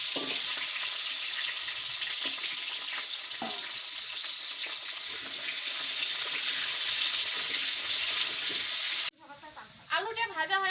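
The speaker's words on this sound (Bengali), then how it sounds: "মাংস দেওয়ার জন্য আলুগুলো ভাজি নিই" Potatoes frying in hot oil in a kadai for chicken biryani, a steady loud sizzle that runs unbroken for most of the stretch, with a few stirring scrapes, before it cuts to a brief quieter passage with a voice at the end.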